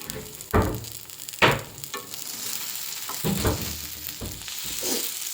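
Spice tempering stirred in a frying pan, with a steady sizzle broken by repeated scraping strokes of a spoon against the pan, close and moderately loud, with no talking.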